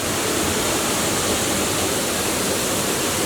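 Waterfall at Kima Atas near Manado, a steady broadband roar of falling water filling the whole clip at constant loudness, no voices.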